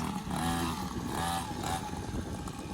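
Motocross motorcycle engine revving in repeated surges and falls, buzzy and mid-distance, alone without talk over it.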